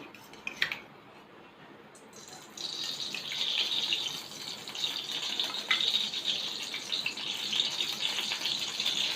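A metal spoon clinks against a hot kadai that holds a little water, then spoonfuls of oil go in and a steady hiss of sizzling rises and holds, close and fairly loud, with no talking.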